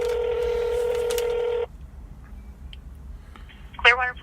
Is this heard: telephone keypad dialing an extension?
yes